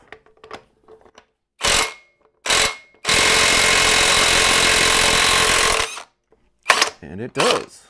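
A powered impact tool fitted with a 55 mm socket breaks loose the rear hub nut on a Ducati Panigale V4 Speciale, hammering in one loud sustained burst of about three seconds, bracketed by short bursts; someone speaks briefly.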